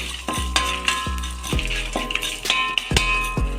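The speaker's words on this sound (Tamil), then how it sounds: "லாஸ்ட்டில் அந்த புளியும் பூண்டு போட்டுடலாம் அந்த சூடுலேயே நல்லா ரோஸ்ட் ஆகிடும்" Horse gram roasting in a hot pan with tamarind and garlic: a steady dry sizzle broken by regular scraping stir strokes, roughly twice a second, close and clear with no talking.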